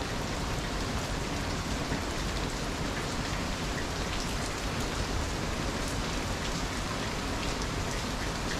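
Heavy monsoon rain in Thailand pours down in a dense, continuous hiss of drops hitting surfaces, steady and loud throughout with no voices.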